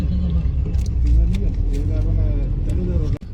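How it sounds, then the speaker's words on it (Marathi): Heavy road traffic on the route from Alibag toward Panvel: loud continuous engine rumble and passing vehicles close by, with a brief dip near the end. "इकडे खूप ट्रॅफिक आहे"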